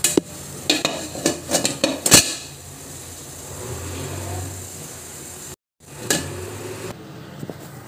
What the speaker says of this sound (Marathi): ते माझं तेल गरम झालं आहे, कांदा पण घातला आहे